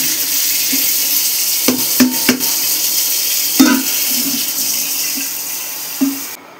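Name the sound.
water being poured into a pot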